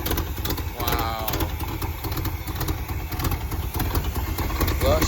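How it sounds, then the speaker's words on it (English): A 1971 Monte Carlo engine running with an exhaust leak, a steady rough mid-pitched idle with ticking exhaust noise throughout, close and fairly loud, no talking. "Well, she definitely got an exhaust leak."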